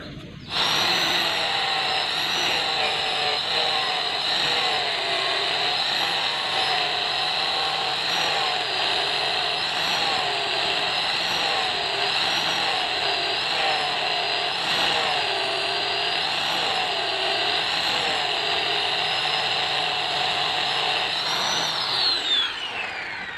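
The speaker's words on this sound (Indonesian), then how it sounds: "Kita memakai gerinda untuk membuang kesininya" A steady, loud high-pitched whine of an angle grinder grinding animal horn for a ring, running nearly continuously with slight wavering pitch as the tool bears down, then winding down at the end.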